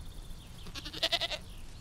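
Goats on a rural property give a short burst of several quick bleats in the middle, moderately near, over a quiet outdoor background.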